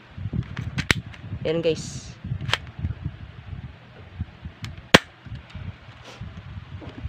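An M1911A1-style silver two-toned spring airsoft pistol has its slide racked, giving sharp metallic clacks and clicks amid someone talking close by, with one especially loud snap midway.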